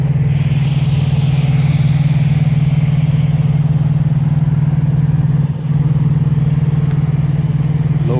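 Prime semi truck idling in a parking lot, a loud steady low diesel drone that holds unbroken throughout, close by.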